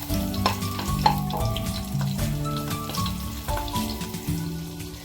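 Chopped onion frying in hot oil after black cumin and bay leaves gives a close, steady crackling sizzle, broken by frequent clinks and scrapes of a utensil stirring the pan.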